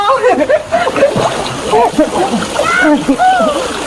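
People jump into a swimming pool with loud, continuous splashing and sloshing water, nearly buried under excited shouting, chatter and laughter.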